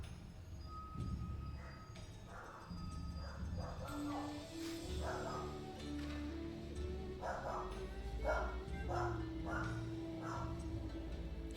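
A dog barks and yips in a steady run of sharp, fairly close calls against a low room hum, with a voice talking now and then.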